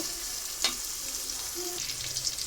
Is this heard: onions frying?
yes